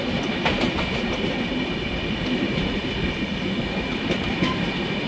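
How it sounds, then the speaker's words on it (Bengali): A passenger train on a Kolkata to Jammu run rolls on after leaving Barakar railway station, a continuous loud rumble with faint rail clicks from inside the carriage, no voices. "বরাকর রেল স্টেশন ছাড়লো।"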